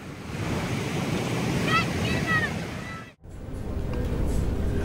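Ocean waves breaking at sea with a roaring surf wash and wind buffeting the microphone, loud and continuous with a momentary dropout near the end.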